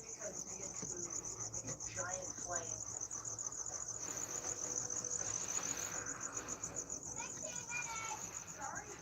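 Crickets kept as tarantula feeder insects chirp in a continuous high, rapid trill throughout, fairly close, with faint voices and background activity underneath.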